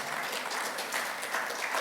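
A congregation claps during an Indonesian Sunday worship service, a short, dense burst of many hands at a steady level with some sharper individual claps standing out.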